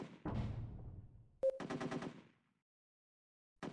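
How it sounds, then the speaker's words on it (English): Video game Strategema gunfire: a short burst of rapid shots, then a second, brighter rattling volley, separated by brief gaps and followed by silence, with another burst starting at the very end. "Hear gunfire."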